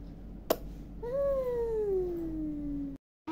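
A cat gives a single long, drawn-out meow that slides downward in pitch, preceded by a sharp click, close and clear in a quiet room, with no talk.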